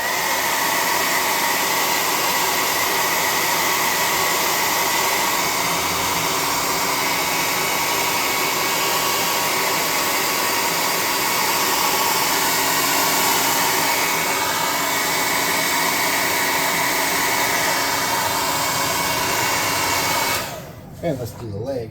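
Hair dryer blowing continuously to dry paint on a tabletop miniature combat walker model, a loud, steady close-up whoosh lasting about twenty seconds before it is switched off with a brief clatter.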